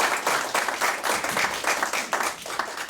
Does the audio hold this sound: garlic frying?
no